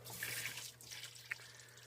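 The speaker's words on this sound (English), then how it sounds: "So I'm going to dump some nice clean water into the drain pan" Clean water trickles and drips into an air conditioner drain pan, a faint, steady wet pouring with a small drip near the end, heard alone at low level.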